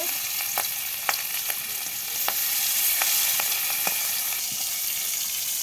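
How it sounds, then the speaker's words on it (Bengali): Fish pieces rubbed with turmeric, salt and chili frying in hot oil, a loud steady hiss of sizzling with occasional sharp clicks of a utensil against the pan, no talking. "এখন মাছ ভেজে নিচ্ছে।"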